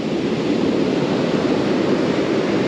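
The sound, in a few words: hectic ocean waves on the shore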